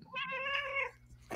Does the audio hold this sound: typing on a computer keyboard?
no